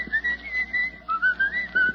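A man whistles an old song in a bright, wavering melody of sustained notes with short breaks, close and clear with no talking over it.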